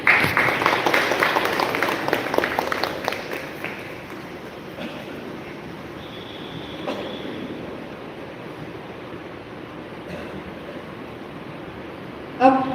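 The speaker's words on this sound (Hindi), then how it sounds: "आइए हम सभी तालियों के साथ उनका स्वागत करें।" Applause from an audience welcoming a speaker at a community event, a dense clapping wash that is loudest at first and fades to a faint patter, with brief louder clapping returning at the end.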